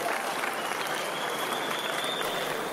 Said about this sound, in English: Can we give him a round of applause to this man?